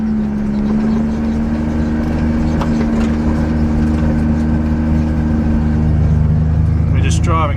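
A farm vehicle circling a pile of trees, its engine a steady loud drone with a low constant hum that holds through the whole stretch, while a voice talks over it.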